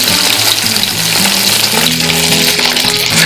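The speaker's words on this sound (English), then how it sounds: "maybe 1 minute or so to fry all these 6 eggs" Six duck eggs fry in hot oil, crisping on the outside, making a loud, close, continuous sizzle with low bubbling tones and faint stirring movement underneath.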